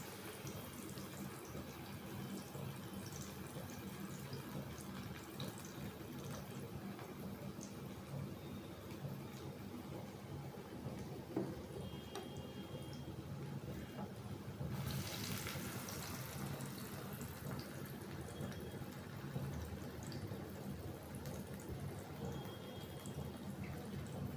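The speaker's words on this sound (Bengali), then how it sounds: "তেলটা গরম হয়ে গেছে, এবারে এটা ছেড়ে দিচ্ছি" Food sizzling as it drops into hot oil in a wok, a steady bright crackle and hiss that runs continuously throughout at moderate level, with a brief louder surge partway through.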